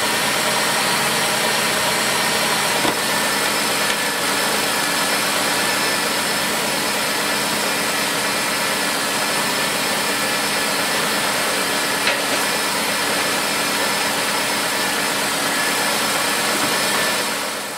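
A 1995 Oldsmobile 88 with a 3.8L V6 idles steadily, a continuous close engine hum and whir with no breaks and no talking.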